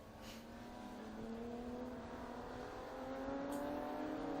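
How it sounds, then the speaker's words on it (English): Historic Ferrari race cars drive through a chicane at Estoril, their engines a distant steady drone that climbs in pitch as they accelerate, faint and continuous against the circuit ambience. "we're watching the Ferraris go through the chicane there up the steep hill and then into the S's"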